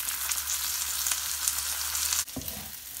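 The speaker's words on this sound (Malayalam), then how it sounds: "അത് നന്നായിട്ട് ചൂടായി വരുമ്പോഴത്തേനും കഴുകി വാരി വെച്ച അരി അരിയിട്ട് കൊടുക്കുകയാണ്." Washed rice fries in oil and butter with whole spices for a mutton kizhi biryani, a bright continuous sizzle heard up close, interrupted near the end by a brief stirring clatter.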